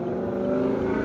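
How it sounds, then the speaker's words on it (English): A car with a loud exhaust drives past close by, giving a steady, throaty engine drone with a strong low hum that holds through the whole second. "Oh boy, I'm impressed with that guy's exhaust system."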